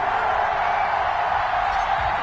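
Stadium crowd at Arrowhead in an NFL video game before a Cleveland Browns vs Kansas City Chiefs kickoff, a dense, steady roar of cheering that fills the space evenly without pauses.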